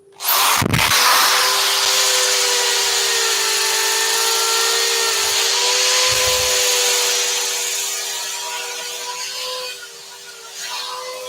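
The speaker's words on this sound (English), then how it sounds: "I'm going to put the dust extraction on. Quick power sand." A power sander works a handled wooden bowl with dust extraction running, giving a loud, steady whine that holds for about ten seconds and then eases off, with a short burst of handling noise near the start and no talk.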